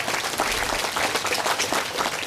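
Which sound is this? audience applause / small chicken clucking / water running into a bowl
audience applause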